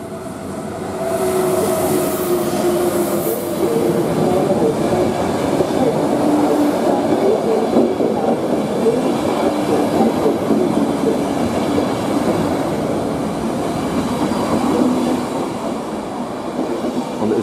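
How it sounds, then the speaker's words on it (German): A D-Zug passenger train hauled by a Taurus locomotive passes through Kufstein station, a loud sustained rumble of wheels on rails with faint clatter and squeal that builds, holds for about fifteen seconds, then eases. "Ich finde das interessant, dass das jetzt ein D-Zug ist von Wien bis Feldkirch und kein Eurocity."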